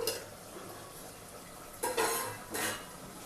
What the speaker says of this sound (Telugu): కూర అయిపోవచ్చింది ఒకసారి మూత తీసుకుని చూద్దాం